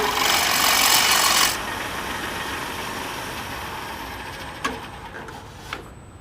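A woodturning scraper cuts a wooden scoop on a lathe, a loud bright rasping scrape for over a second, then a quieter steady hum with a few small knocks.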